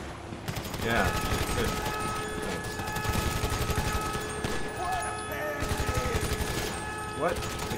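Rapid bursts of gunfire from GTA V Online's Humane Labs EMP mission, clattering in repeated volleys of automatic shots throughout, with players talking over the shooting.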